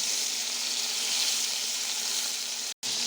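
Shrimp coated in salt and turmeric frying in a pan, giving a steady, close hiss of sizzling oil that cuts out briefly near the end.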